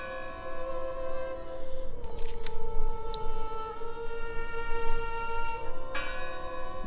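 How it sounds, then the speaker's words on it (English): A church bell tolls in a video game set in the fjords, ringing out with long sustained tones and sharp metallic strikes over a low ambient rumble. "Listen! The bell!"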